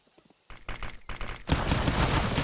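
Rapid Five-SeveN pistol fire in a Counter-Strike match: a few faint shots, then loud bursts of quick cracking rounds that merge into a sustained, dense volley toward the end.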